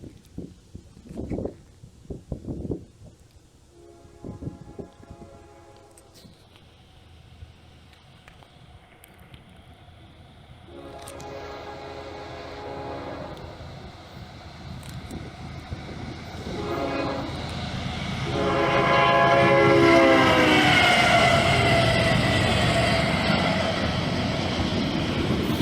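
CSX locomotive 1776 trailing second on freight train Q009 passing, a horn blast sounding before the rumble of wheels and rail cars builds and grows loud and close.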